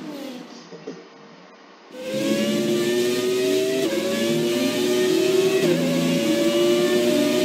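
A race car engine in the F1 2017 video game, a retro car: a low idle, then a loud sustained engine note that climbs in pitch as it accelerates, with brief dips at gear shifts.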